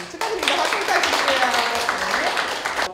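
Applause from a small audience at a restaurant-owner training session, a dense, steady round of clapping that goes on for a few seconds after a brief pause.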